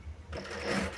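A sewing machine stitches a stabilizer-stiffened sling bag, starting partway in with a close, steady mechanical whirr that holds to the end.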